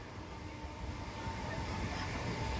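A local train on an Indian long-distance route runs at close to 100 km/h, producing a steady, loud, enveloping rumble and rattle of wheels and carriage that swells slightly and continues without break.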